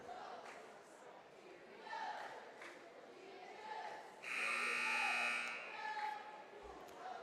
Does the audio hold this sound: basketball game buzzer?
yes